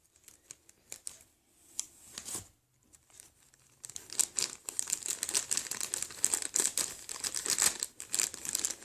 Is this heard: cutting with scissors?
yes